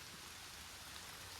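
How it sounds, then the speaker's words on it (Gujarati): Rain falls on a plant nursery in a steady, even patter, a brief soft wash of droplets with no talking. "જો વરસાદ આવી ગયો"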